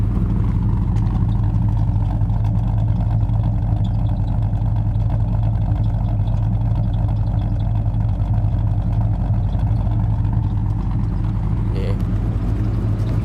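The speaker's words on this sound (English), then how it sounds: "if you just put it in gear and let the transmission just suck up a bit of that engine, that just slows it down a little bit more" A car engine idling in gear with the transmission loading it down, a steady low rumble with a firm throbbing hum that holds constant throughout, heard close and loud.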